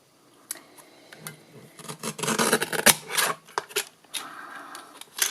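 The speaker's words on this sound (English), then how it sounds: "So I'm just going to pop my piece into my mini trimmer" A paper trimmer slices through a small card piece, giving a series of dry scraping and rasping strokes, a denser burst in the middle, close and fairly quiet with no talk.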